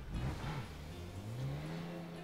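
A car engine in a shooter video game revs with a steadily rising pitch, a moderately quiet drone heard alone without talk.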